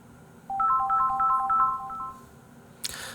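Incoming call tone from a telephone, a quick warbling electronic melody of repeated chirping notes lasting about two seconds, clear and alone, followed by a brief click.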